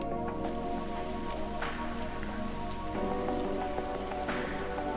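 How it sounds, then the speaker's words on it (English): Rain falls in the Rebellions: Secret Game video game, a dense, steady patter of drops on surfaces that stays constant and fairly loud throughout, with occasional brighter splashes. "rain started to fall from the great leading clouds up ahead"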